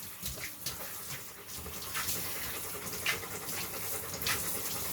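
A shower sprays water while a big dog named Brutus is being washed, producing a steady, soft hiss and splashing with occasional louder spatters close by.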